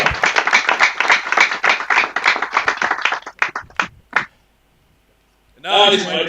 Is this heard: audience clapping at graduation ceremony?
yes